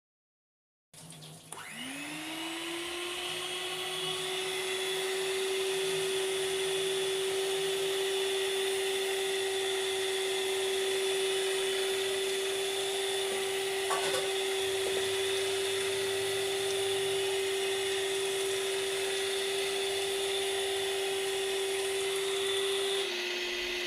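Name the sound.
electric hand beater mixing dosa batter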